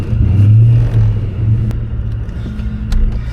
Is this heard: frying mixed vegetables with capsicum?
no